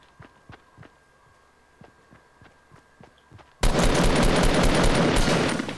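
Gunfire in the Fortnite Battle Royale video game: a series of soft, evenly spaced thuds gives way abruptly to a loud, sustained burst of rapid automatic fire that fills the last two seconds.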